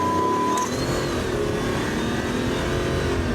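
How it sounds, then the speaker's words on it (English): A 2025+ Ram 1500 Hurricane truck engine with a performance module accelerates hard at full throttle, a loud close rising roar that climbs steadily in pitch, with no talk over it. "But this is the first time I'm flooring it."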